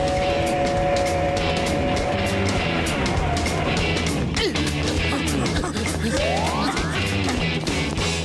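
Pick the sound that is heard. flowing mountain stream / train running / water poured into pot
train running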